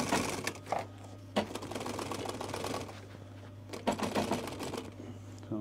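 A sewing machine stitches seat cover fabric for a VW T5 Transporter in short bursts with brief pauses, fairly quiet and close, over a low steady hum.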